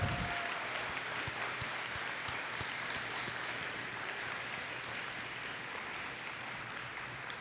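Audience at a school awards assembly gives a sustained round of applause, a fairly quiet, even wash of many hands clapping that carries on steadily for several seconds.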